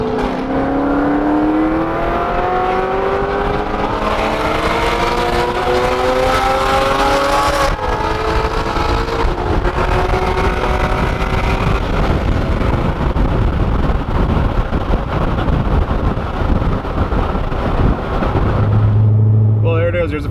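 Loud engine roar of a Corvette C6 Z06 with heads and cam during roll racing laps, pitch climbing through gears with shifts, heavy wind buffeting throughout and voices talking underneath.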